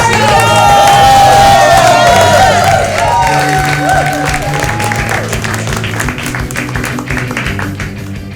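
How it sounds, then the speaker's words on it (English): A stand-up comedy crowd cheers and applauds loudly as a comedian takes the stage, whoops and shouts riding over continuous clapping that slowly eases off, with some music under it. "I appreciate the cheer."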